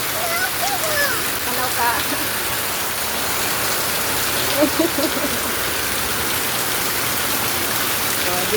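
Heavy rain pours down steadily outside a house in Metro Manila as streets begin to flood, a dense continuous hiss of rainfall and running water with a person speaking briefly over it.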